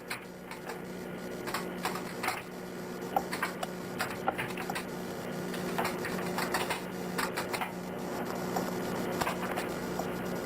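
Someone types on a computer keyboard, a quick uneven run of close, crisp keystrokes ending with the return key, heard over a low steady hum with no talking.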